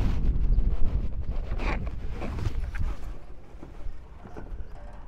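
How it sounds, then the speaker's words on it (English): Wind blows outdoors during a car roof rack installation, a steady low rumble buffeting the microphone that is loudest at the start and eases off later, with a voice briefly present. "It's kind of windy today."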